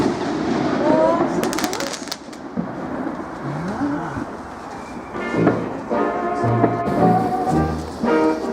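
An outdoor Bonfire Night fireworks display on 5 November sends out booming bursts and crackling pops at a distance, while people talk nearby.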